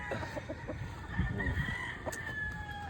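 A gamecock at a gamefarm crows at a moderate distance, with clucks and other fowl calling faintly in the background.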